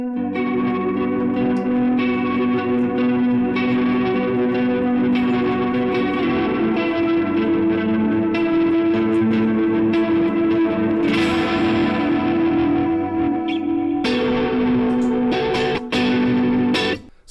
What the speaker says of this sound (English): that's just a very basic clean sound with a chorus on it